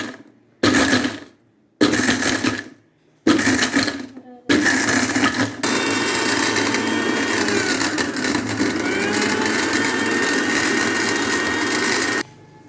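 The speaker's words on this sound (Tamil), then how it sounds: "இப்போ நம்ம ஐஸை அரைக்கணும்." A kitchen blender grinds ice for a vanilla smoothie, starting with three short loud pulses before settling into a long steady whirring run of roughly seven seconds, then cutting off abruptly.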